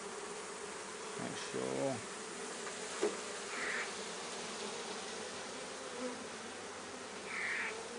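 Honeybees buzz around an open top bar hive in a dense, continuous hum close by, with a few brief louder passes and faint handling noises, and a voice speaks briefly.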